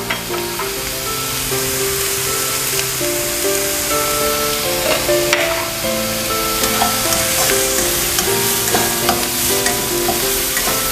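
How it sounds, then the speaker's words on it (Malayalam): Onions sautéing in a pan with chopped green chillies, black pepper powder and salt for a meat cutlet filling. A steady, loud sizzle runs throughout with scraping stirs, over soft background music. "സവാള ചെറുതായിട്ടൊന്ന് സോട്ട് ചെയ്തെടുത്താൽ മതി."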